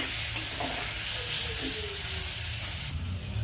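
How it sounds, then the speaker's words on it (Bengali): Onions cooking with salt, Kashmiri chilli powder and turmeric give off a soft continuous sizzle while being stirred in a pan, fairly quiet and close, with faint scraping and clicks over a low background hum. "এইবার আমি খুব ভালো করে নাড়াচাড়া করে নিচ্ছি।"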